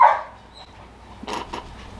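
A single short bark at the start, then a quiet pause and a couple of muffled, softer noises nearby.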